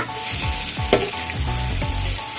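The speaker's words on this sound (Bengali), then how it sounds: "ডাল পেঁয়াজ আমার একদিকে হালকা ভাজা হয়ে গেছে, আমি এবার উল্টিয়ে দেব" Lentil and onion fritters (dal piyazi) sizzle steadily in hot oil, close and loud, with repeated scraping and stirring strokes and a sharp clink of a utensil partway through.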